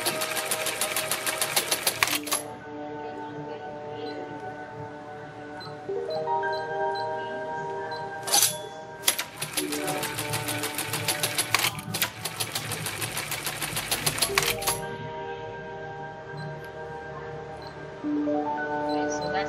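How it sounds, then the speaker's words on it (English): A button attaching sewing machine runs in three rapid, rhythmic stitching bursts, each followed by a brief pause, with sharp clicks between bursts. The sound is close and clear. "So that is the button attaching machine. Specifically used for attaching buttons, of course."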